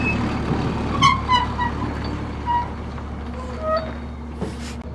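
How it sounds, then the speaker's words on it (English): A truck on a farm pond repair site moving and reversing, with a series of reversing beeps over a low engine rumble, moderately close, no talk. "Well, first we gotta move the truck."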